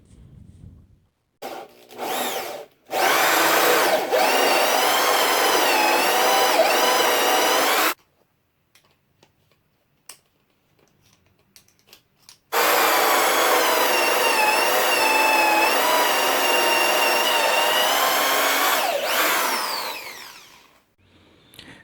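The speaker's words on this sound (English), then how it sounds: "So we got 5 holes drilled out there." A hole saw bores into a driftwood log, making two long, loud, steady grinding drill runs of several seconds each, separated by a quiet pause with small clunks, heard close up with no talking.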